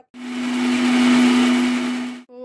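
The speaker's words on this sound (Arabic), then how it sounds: "نبدا نخلط البيض بايض البيض بوحدو" An electric mixer whisking egg whites for meringue gives a loud, steady motor whine that runs unbroken for about two seconds and then cuts off abruptly.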